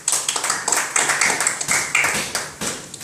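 A small audience claps at a live music event, the individual claps loose and irregular, close and fairly loud, with no talk over them.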